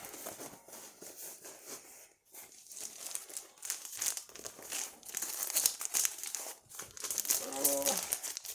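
A plastic bag crinkles and rustles close by in quiet, irregular bursts, growing busier toward the end.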